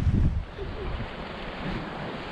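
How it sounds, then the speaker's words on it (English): Wind gusts buffet the microphone with a low rumble on a sea coast below a rocky headland, over a steady hiss of surf and open-air noise. "we've got a bit of a wind blowing this way"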